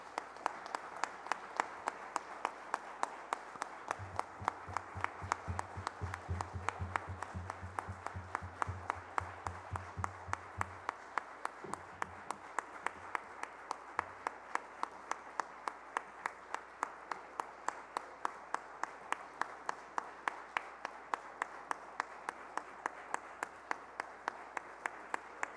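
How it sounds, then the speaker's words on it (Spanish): Long, steady applause from a seated audience at a media panel in Guatemala, paying tribute to Rafael Molina Morillo, rhythmic clapping continuing evenly throughout, fairly distant and soft. "no un minuto de silencio, sino un aplauso para Rafael"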